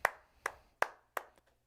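Hand clapping during a college baseball broadcast between Kansas and Nebraska, four sharp, evenly spaced claps close to the microphone, with no talk over them.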